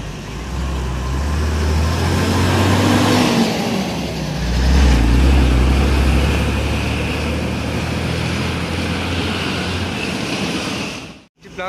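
Busy road traffic on the route from Medan Jaya toward Medan, with cars, trucks and buses passing. A continuous, loud engine rumble rises and falls as vehicles go by, with no talking.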